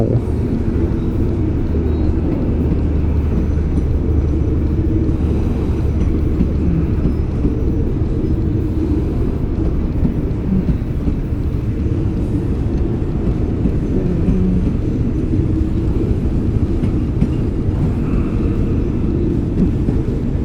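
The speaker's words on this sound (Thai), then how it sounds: "รถไฟ รถไฟ รถไฟ" A continuous low rumble of a passing train, steady and fairly loud throughout with heavy low-end roar and no clear talking.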